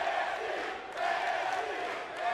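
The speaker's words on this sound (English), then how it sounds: "As the crowd comes alive with the NXT chants." An arena crowd in the WWE 2K18 wrestling video game chants NXT in steady rhythmic waves, a loud massed roar of voices swelling and falling.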